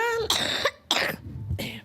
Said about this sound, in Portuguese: vira o rostinho assim pra tossir